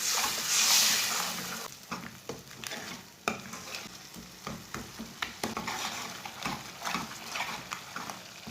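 Spice masala being stirred with a little water in a pan for egg curry, a steady wet scraping and sizzling with irregular spoon strokes, close and moderately loud, no voices.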